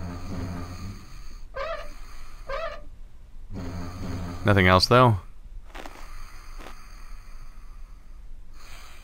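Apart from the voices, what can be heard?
snoring sound in the video game Quadrilateral Cowboy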